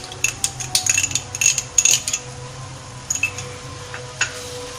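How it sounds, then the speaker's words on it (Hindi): Kachri keema frying in a pan with yogurt, stirred by a spoon that taps and scrapes the metal in irregular clinks over a low sizzle, close and moderately loud. "अब अच्छे से हम इसकी भुनाई करेंगे दही डालकर।"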